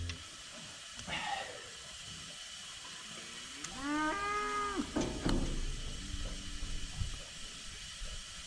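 Cows on a working cattle farm moo in a few drawn-out, low calls over faint background hiss and rustling, fairly close and with no one talking.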